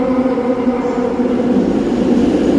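A metro train arriving at a station in Kuala Lumpur, a steady loud rumble and whine that holds level throughout, close and continuous with no voices.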